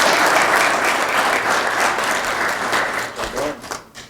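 Audience applause at a college apprenticeship signing day honoring Hago Automotive apprentices, full crowd clapping that stays strong then thins out near the end, with some voices under it.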